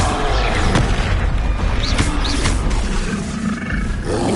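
Expelliarmus spell cast in a wizarding video game, a loud roaring burst with whooshing magical swells and a deep boom, dense and close with no voices.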